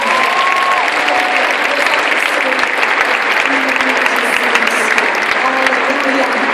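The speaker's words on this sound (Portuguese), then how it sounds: "Vamos aplaudir os meus amigos." A large crowd at a worship and praise congress bursts into loud, sustained applause, close and continuous for several seconds, with cheering voices blended in.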